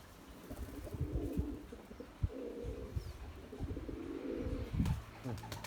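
Pigeons coo in repeated low, throaty phrases close by during a flying session with white pigeons, with faint rustling between calls and no clear talk.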